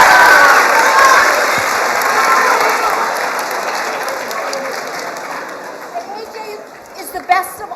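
A crowd applauds and cheers for a teacher, with dense clapping loud at the start that slowly thins out and gives way to scattered voices and a few last claps.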